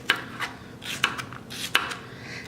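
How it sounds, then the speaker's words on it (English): A knife slices through jalapenos on a cutting board, a handful of crisp, evenly spaced cuts and taps heard close up in a quiet kitchen. "The jalapenos I typically just cut in half and then I'll slice them about 1/8 of an inch."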